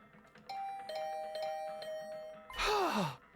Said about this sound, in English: I was brought back to the land of the living by the unrelenting ringing of my doorbell.